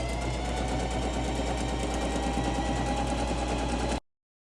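A sewing machine runs a straight stitch down the back of a blazer, a fast, steady, rhythmic mechanical chatter that continues unbroken for about four seconds and then stops.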